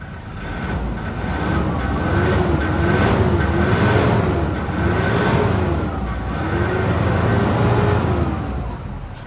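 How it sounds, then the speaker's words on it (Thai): A 2007 Toyota Vigo 2.5E pickup's engine drones loud and steady, swelling in repeated waves as it is revved up and eased off several times. "เดี๋ยวผม เร่งเครื่องให้ดูนะครับว่ารถคันนี้ ควันดำไหมรีแมปมาไหมนะครับ"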